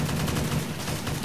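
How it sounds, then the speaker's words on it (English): Dense, rapid gunfire rattles continuously and loudly in Roblox PAYDAY 2, the shots blurring into one unbroken barrage. "I don't even know if I could be heard over these gunshots"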